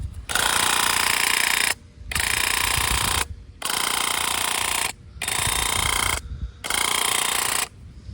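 A BAUER 20V cordless handheld airless sprayer from Harbor Freight sprays in five steady, loud bursts of roughly a second and a half each, separated by short pauses, with no talking.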